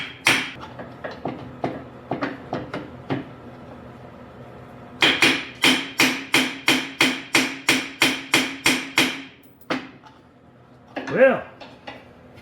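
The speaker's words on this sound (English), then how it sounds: "make sure you got a brass tip hammer" Brass-tip hammer striking a stubborn part on a 1969 Simplicity Broadmoor 727 lawn tractor: a quicker irregular run of taps, then about a dozen evenly spaced ringing metallic blows, followed by a final couple of hits.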